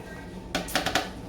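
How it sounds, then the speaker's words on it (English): Stirring seasoned flour in a bowl for frying pork chops, a few soft, quick clinks and scrapes of a utensil against the bowl, faint and close, in a short cluster. "I'm going to just give this flour a stir to get it all mixed in."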